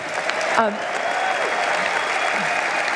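Audience at a conference interview applauds in a steady, fairly loud wash of clapping lasting a few seconds, with a voice speaking briefly over it near the start.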